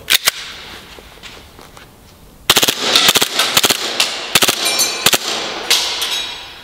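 An airsoft Glock pistol rips off rapid full-auto bursts, close and loud, sharp snapping shots in quick strings with short gaps until the magazine runs dry, after quieter handling sounds at the start.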